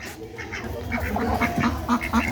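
Several ducks quack repeatedly in a steady, overlapping chorus, fairly close, with a busy outdoor background, after being chased by a dog and scattered.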